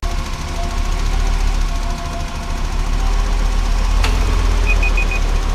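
A VW Microbus 2.3i engine idles loudly and steadily up close, a constant low rumble with a faint knocking texture and a brief click near the end.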